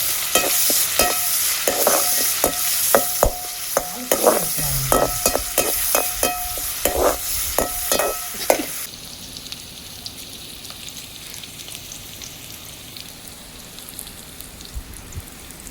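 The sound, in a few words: curry leaves and onion frying in a pan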